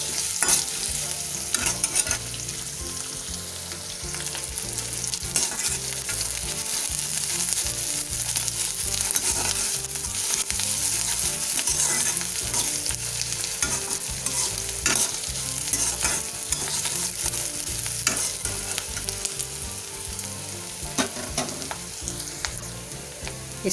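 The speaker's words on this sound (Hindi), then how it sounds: "थोड़ा सा 2 मिनट गोल्डन होने देंगे प्याज को।" Onions frying in a kadhai for a mixed vegetable dish, a steady close sizzle with repeated scraping stirs running throughout, no voices.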